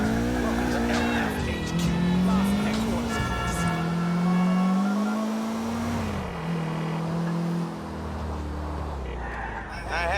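A car races through Grand Theft Auto 4 with a steady engine drone and repeated tire squeals rising and falling as it corners, loud and continuous, with game dialogue voices over it.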